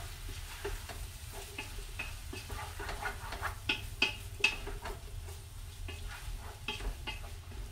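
Vegetable broth for meatless sapasui stirred in a frying pan, a steady soft sizzle under repeated scraping strokes of a utensil, close and moderately quiet with no talking.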